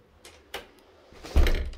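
A house's front door opens into the entrance hall: a couple of light latch clicks are followed by a louder, fuller thud as the door swings open, heard close.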